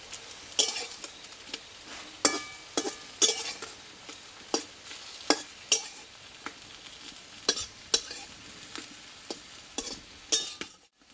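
Potato paratha shallow-frying in a pan while being turned repeatedly, a soft steady sizzle punctuated by frequent sharp clicks and scrapes of a utensil against the pan.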